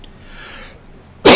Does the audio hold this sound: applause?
no